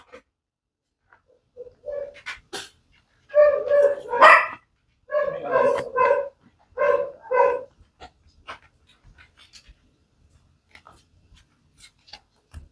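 Several dogs bark in close, loud bursts, a few quick yaps and then clustered runs of barking, with faint birds and small noises in the quiet gaps.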